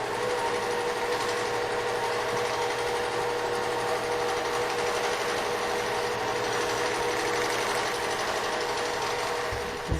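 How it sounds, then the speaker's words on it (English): A quilting machine sews a row along a pantograph with a steady, continuous mechanical hum and rapid needle chatter, close and even throughout, with no talking. "now I can put my needle down and start quilting the next row"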